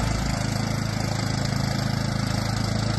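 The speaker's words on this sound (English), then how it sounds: "This is how not to tow your boat out of the water with your lawnmower." A lawnmower tows a boat up out of the water at Hudson Point boat launch on Salt Spring Island, its engine a steady, close, continuous drone with no pauses and no voices.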